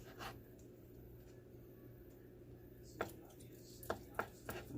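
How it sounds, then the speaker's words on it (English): A knife makes several sharp thuds and taps on a cutting board while cutting chicken into bigger chunks. The cuts come clustered near the end over quiet room tone, with faint handling sounds before them. "And then you want to just cut it in like bigger chunks."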